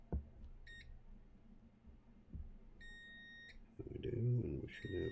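Short electronic beeps from a multimeter continuity test on a Sundown Audio SAZ-3500D amplifier under repair, sounding as two or three brief tonal chirps over a low hum, with a louder rumbling burst near the end.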